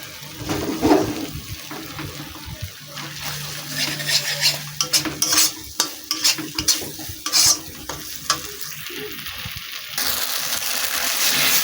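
Poppy seed and mustard paste stir-fried in a pan for egg posto makes a bubbling sizzle broken by repeated scraping strokes of a spatula against the pan, followed by a louder rushing hiss near the end.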